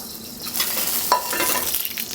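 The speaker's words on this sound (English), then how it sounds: "You sear on all 4 sides." Short ribs searing in a hot pan, a steady close sizzle and crackle of fat running throughout, with a brief brighter spit partway through and no talking.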